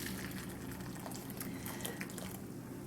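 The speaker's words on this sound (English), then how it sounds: "I'll just start by putting some boiling water over these little onions" Boiling water is poured over little pickling onions, a faint, continuous splashing gush that runs steadily throughout with no voices.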